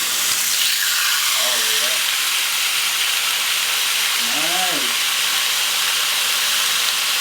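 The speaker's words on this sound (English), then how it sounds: "when you put your pork chops down onto your grill and you hear that delicious sizzle" Pork chops sizzle on a hot grill, a loud, dense and continuous hiss filling the whole stretch, with a few brief voiced sounds faintly underneath.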